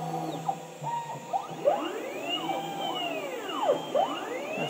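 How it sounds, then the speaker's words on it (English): A quiet 2-horsepower Colombo electro spindle on a MultiCam M Series 5x5 CNC router runs steadily, with rising and falling whine sweeps as the machine cuts, fairly faint and alone. "Notice you can barely hear the spindle running"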